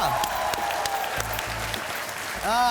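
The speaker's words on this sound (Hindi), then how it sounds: "तालियां।" A television talk-show studio audience applauds in a short burst of dense clapping, with some background music and voices.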